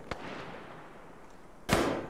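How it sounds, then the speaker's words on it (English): Mortar fire in a WWII battle game: a sharp distant crack, then a louder close blast a moment later, both short, with quiet rumble between. "There's a mortar right there."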